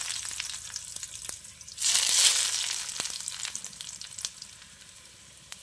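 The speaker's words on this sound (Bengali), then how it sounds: "তেল আমি খুব ভালো করে গরম করে নিয়েছি, তারপর গ্যাসের ফ্লেমটাকে মিডিয়ামে করে দিয়েছি। এবার যে কাবাবগুলোকে রেডি করে রেখেছিলাম, সেই কাবাবগুলো এর মধ্যে একে একে দিয়ে দিচ্ছি।" Beetroot kebabs drop one by one into hot oil over a medium flame for shallow frying, setting off a sudden loud sizzle that settles into a steady hiss with scattered pops and crackles, with no speech.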